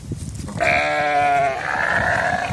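A sheep gives one loud, close, drawn-out bleat that wavers and carries on for about two seconds, with a faint rustle just before it and no talk.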